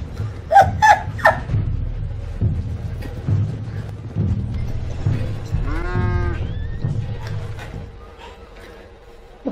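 A cow in Red Dead Redemption 2 gives one long, loud moo partway through, amid laughter, chuckling and muffled voices that fade toward the end.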